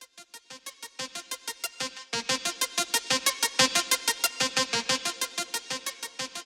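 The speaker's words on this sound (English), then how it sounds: "I took this little note and hit it with Blue Arp." A bright synth note run through the Blue Arp arpeggiator plugin pulses in a fast, even pattern of repeated plucky hits, stepping through pitches and growing slightly fuller halfway through.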